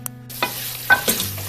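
Yogurt masala with mutton frying in a pot for aloo gosht, with low stirring scrapes and a few soft sizzling bursts over a steady hum, close and fairly quiet.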